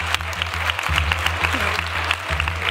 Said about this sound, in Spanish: Quiero, señor presidente, que conste en acta esta ovación de todos los grupos parlamentarios a este ministro.